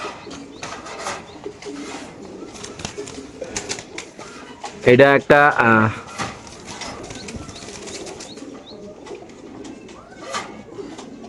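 Racing pigeons cooing and flapping among a loft of birds being sold, a loud burst of wingbeats in the middle over steady soft cooing and rustling, with someone talking briefly.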